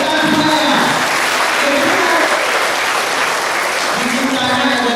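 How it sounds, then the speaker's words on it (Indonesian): A school crowd at a student activity event applauds loudly and continuously, with dense clapping throughout and voices audible underneath. "Tepuk tangan."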